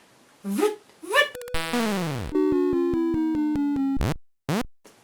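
Chirpy electronic game blips give way to a falling synth sweep, then a rapid stepped buzzing tone and two sharp bursts, like a retro death jingle.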